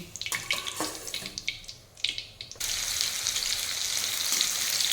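Chicken pieces for chilli chicken go into hot oil for deep frying; after a few knocks and clatters, a loud, dense, continuous sizzle takes over and holds steady.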